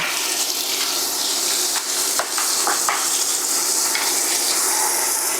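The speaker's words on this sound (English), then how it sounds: "So we're gonna do ground beef and Italian sausage. Flop them in." Ground beef and Italian sausage frying in a pot for chili, a loud steady hiss and sizzle up close with a few clunks from stirring breaking through.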